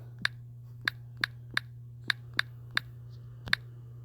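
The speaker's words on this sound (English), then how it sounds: "Let me just type this in real quick." Keys tapped slowly on a computer keyboard: about ten sharp, isolated clicks at irregular intervals over a steady low electrical hum, with no talk.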